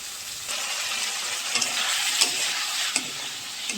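Cumin, ginger paste and chili paste with salt and turmeric sizzle in hot oil in a pan for a tilapia fish curry, a steady close frying hiss with faint stirring scrapes and a few soft clicks, no voices.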